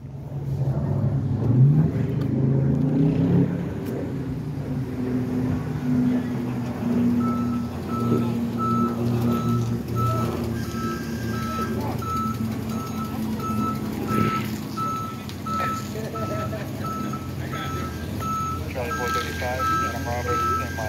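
A truck backing up trailers at the scene of a fire on Blue Hill Ave sends out a regular series of reversing beeps over a diesel engine rumble, moderately close, with someone talking at the start.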